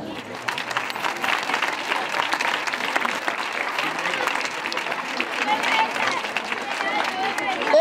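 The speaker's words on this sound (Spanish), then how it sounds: "Vamos a darle un aplauso." Audience applause at a school event for children's rights, with families and elderly guests present, steady dense clapping sustained throughout with crowd murmur and voices mixed in.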